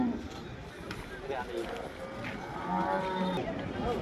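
A cow moos at a busy livestock market, its drawn-out calls rising over a dense crowd murmur and steady chatter of nearby voices, fairly loud and continuous throughout.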